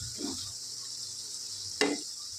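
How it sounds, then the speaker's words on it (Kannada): Bottle gourd pakoda frying in hot oil, a steady close sizzle with a soft stir early on and a sharper clink of a utensil against the pan near the end. "ಈ ರೀತಿ ತಿರುಗಿಸ್ಕೊಂಡು ಎರಡು ಕಡೆನೂ ನೀಟಾಗಿ ಫ್ರೈ ಆಗೋ ರೀತಿನ ಮಿಕ್ಸ್ ಮಾಡಿಕೊಂಡು ಮಾಡ್ಕೋಬೇಕು"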